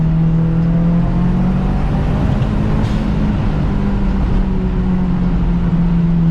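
A Mazdaspeed 6 with a BNR S4 turbo pulls hard through second and third gear, a loud, steady engine drone heard from inside the car with a brief shift break partway through, and no talk.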